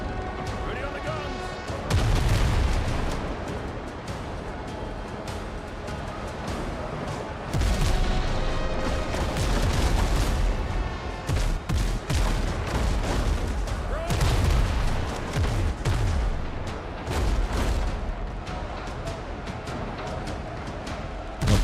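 Ship cannons firing in the pirate game Windrose, repeated heavy booms in clusters over a steady rumble, loud and close, with voices talking between the volleys.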